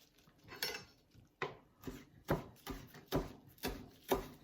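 Knife chopping Thai curry ingredients on a cutting board: about eight sharp, fairly even strokes close by, each a crisp thud with a bright edge and short gaps between them, and no talking.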